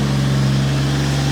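A Toyota Cressida fitted with a 2JZ engine idles while warming up after sitting for days, a steady low hum with a strong constant tone, close and loud with no speech.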